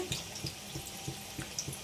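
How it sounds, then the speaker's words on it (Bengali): Water boils in a pot, bubbling with soft, regular pops and a low watery churn, close by. "টক টক বক করে ফুটছে"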